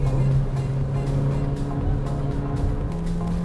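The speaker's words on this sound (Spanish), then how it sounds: "Bueno, tiene un pequeño lag, pero ahí ya se disparó el turbo." Jeep Compass turbo engine pulling hard at full throttle, a loud steady drone with rising engine tones and a sustained low hum, close and continuous for the whole stretch.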